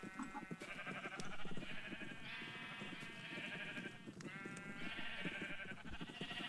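Sheep bleat repeatedly in a blocky survival video game, several overlapping calls rising over a busy background of game sounds and ambience, moderately loud and with no voices present.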